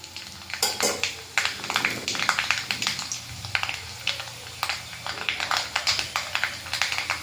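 Dried red chillies and mustard seeds frying together in a pan while being stirred, a dense stream of quick crackles, ticks and scraping taps over a steady sizzle.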